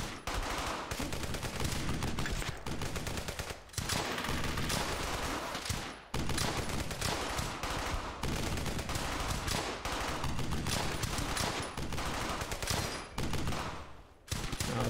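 Heavy machine gun fire in the World War II shooter Brothers in Arms: Hell's Highway, a loud, nearly continuous barrage of rapid shots and echoing battle noise that breaks only for a few brief gaps.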